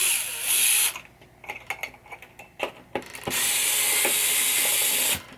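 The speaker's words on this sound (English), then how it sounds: "Those screws have to come out first." Screws being removed from a 1967 Williams pop bumper during a pinball repair, with bursts of a power screwdriver whirring before and after a middle stretch of clicks, taps and ratcheting metal handling, fairly close.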